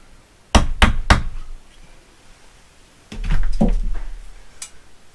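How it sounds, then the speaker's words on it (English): A wooden shim is hammered into a shower niche frame: three sharp close knocks in quick succession, a pause, then another burst of several lighter taps and a final knock. "I'll knock a shim in here and take care of that"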